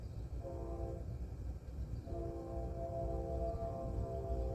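An eastbound CSX, UP or CP freight train passes at a distance, its horn sounding in two drawn-out chords over a faint, steady rail rumble.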